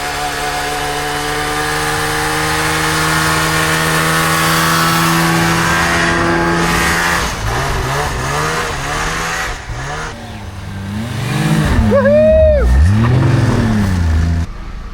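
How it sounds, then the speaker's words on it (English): An engine revs and rises in pitch over a steady drone in snowy backcountry, then several sharp rising-and-falling revs close by near the end; the driver compares its tone to a Subaru. "Sounds like a fucking Subaru, right?"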